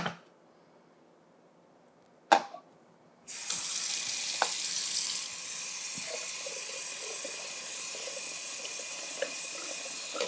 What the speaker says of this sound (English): I'm gonna rinse this pasta and cool it off.